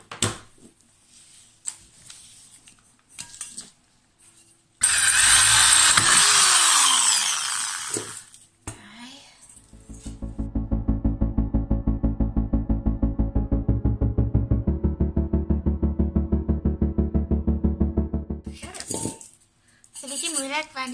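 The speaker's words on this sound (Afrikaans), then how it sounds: "ek het 'n 4 mm boorpunt hier op. Dit is 'n staal boorpunt." A 4 mm steel drill bit bores into an enamel dish, a steady buzzing whine that runs for several seconds after a burst of clattering, loud and close, with handling knocks before and after.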